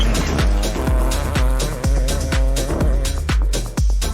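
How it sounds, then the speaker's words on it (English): Mahindra Super XUV300 rally car built by Arka Motorsport, driven hard on the Coimbatore windmill rally stages, its engine revving in loud repeated bursts with sharp gear-change cuts, roughly two per second, close and alone without talk. "This is the Super XUV300 built by Arka Motorsport for Mahindra Adventure and piloted by the likes of Gaurav Gill"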